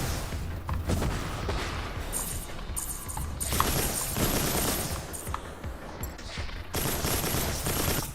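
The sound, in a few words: Gatling gun firing in video game Mass Builder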